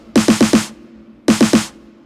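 Novation Circuit groovebox drum pattern: a loud, close burst of four rapid evenly spaced punchy hits, a pause, then a second matching burst of three or four, with no talk.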